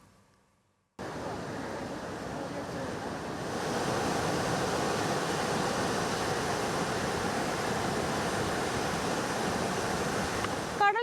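Sea waves at Thikkoti beach, a steady roaring wash of surf with wind noise that starts abruptly after a second of quiet and grows louder before holding level.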